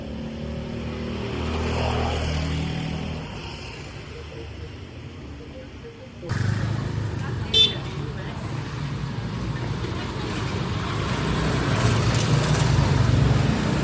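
Steady rumbling traffic of many motorcycles in Ubud, Bali, engines droning nearby, growing louder toward the end, and voices talking over it.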